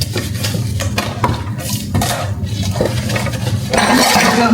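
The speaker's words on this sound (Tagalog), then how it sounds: "paghugas ng pinggan." Dishes being washed by hand in a home kitchen, with clattering plates, scraping and splashing water in uneven bursts close by, growing busier toward the end.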